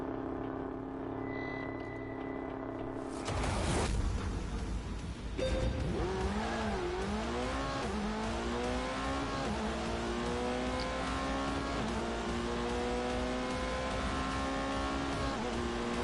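A Porsche 918 hybrid hypercar launching hard on a track, the engine note rising sharply through several rapid upshifts into a loud sustained high-revving howl that stays close.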